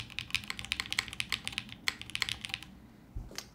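Rapid clacky keystrokes on The Martingale, a top-mount mechanical keyboard, come in a quick uneven burst close up, then slow to a couple of isolated presses and a final thock.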